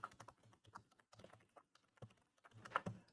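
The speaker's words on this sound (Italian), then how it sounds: "digitiamo il nostro indirizzo email" Keys clatter on a computer keyboard as an email address is typed in, a quick irregular run of soft clicks with short pauses and a denser burst near the end.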